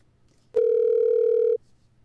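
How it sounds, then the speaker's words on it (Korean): A single steady electronic telephone tone sounds as a call is put through to a reporter for a radio interview, one clean sustained beep lasting about a second, alone against quiet background. "김 기자를 전화로 연결해 보겠습니다"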